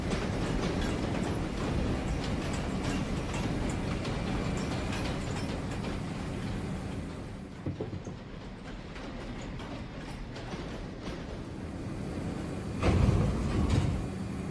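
Simulated New York City subway train running in a Minecraft build of the NYC subway, a steady rolling rumble with clickety-clack and occasional wheel squeals, continuous and moderately loud with a brief louder burst near the end.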